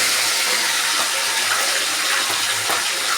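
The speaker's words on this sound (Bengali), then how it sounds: "এই মাছের তেলের মধ্যে আমি ডাঁটাগুলো ভেজে নেব।" Vegetable stems frying in fish oil with tempering spices, giving a loud, steady broadband sizzle and crackle that stays even throughout without a break.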